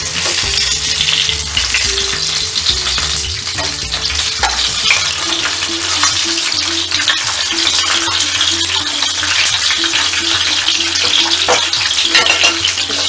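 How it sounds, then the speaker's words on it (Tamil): Chicken, fish and egg frying in oil in separate pans: loud, dense, continuous sizzling and crackling close by, with occasional stirring and clatter underneath. "சிக்கன் ஒரு இதுலேயும் ஃபிஷ் ஒரு இதுலேயும் எக்கும் ஒரு இதுலேயும் ரெடி ஆகிட்டுருக்கு."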